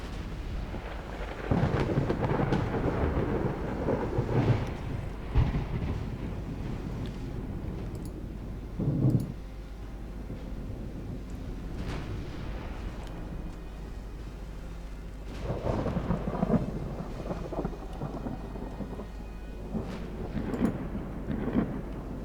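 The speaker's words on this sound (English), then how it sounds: "stormy weather and soon to be nighttime" Thunderstorm with heavy rain in the naval warfare game Ultimate Admiral Dreadnoughts, a steady loud downpour with low rolling thunder swelling in several long rumbles, no voices.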